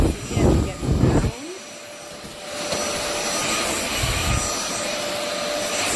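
A VersLife 40 kPa cordless stick vacuum cleaner runs on its second power mode over wooden floors, a steady close whirring hum with a faint high whine that starts after a short stretch of talk and continues to the end.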